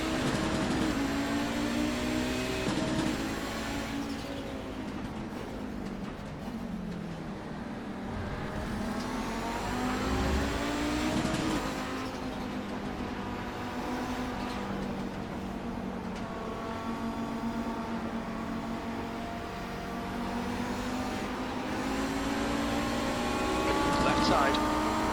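A race car engine accelerating hard through the gears at Road America, its pitch climbing and dropping repeatedly over steady track noise, with someone talking over it throughout.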